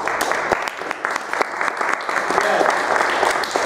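A live audience applauds a health-focused speaker, a steady wash of many hands clapping with sharp individual claps poking through, near and fairly loud, with a voice faintly present underneath.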